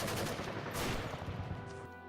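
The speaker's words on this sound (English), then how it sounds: "We started hearing gunshots behind the mountain by our home in Syria." Gunfire from behind a mountain near a home in Syria, a dense, continuous rattle of shots blending into a steady roar, loud throughout with no voices.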